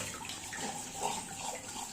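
Dishes and utensils, including ones that held dosa batter, are rinsed under running water, a steady splashing tap stream with small clatters throughout, close by and continuous.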